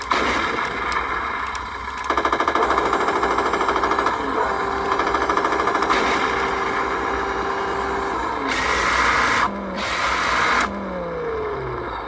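Mechanical sound and firing effect of a 1/16 scale Churchill Mk VII radio-controlled tank, with a buzzing, rattling burst that runs for several seconds, then two louder bright bursts near the end, all close and without talk.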